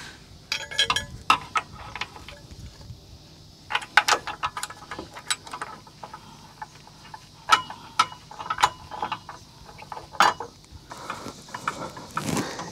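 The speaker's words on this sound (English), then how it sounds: "So I'm going to hand screw these in first." Bolts for Rivian R1S running boards are screwed in by hand, producing faint, irregular metallic ticks and small clicks close by, with quiet gaps between them.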